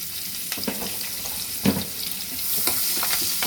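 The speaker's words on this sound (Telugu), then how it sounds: "ఆయిల్ ఇది ఇందులో మనం ఆనియన్స్ వేసేసుకోవాలి" Onions going into hot oil left over from frying eggs make a steady sizzle and spatter, with a few louder crackles and stirring knocks close by. No one speaks.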